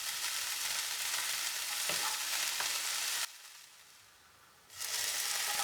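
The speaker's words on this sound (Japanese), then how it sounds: "油を敷いたフライパンに切った根を入れ、しんなりするまで炒めます" Chopped dandelion roots stir-fried in an oiled frying pan, a continuous sizzle with stirring clicks, dropping out briefly to near quiet before the frying hiss resumes.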